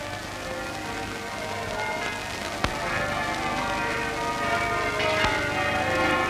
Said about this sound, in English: The call of the Easter bells heralded the time of devotion